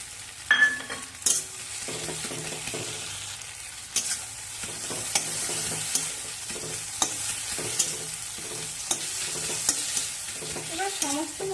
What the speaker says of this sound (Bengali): তেল পাতা দিয়ে মশলার সঙ্গে ভালো করে কষে নেব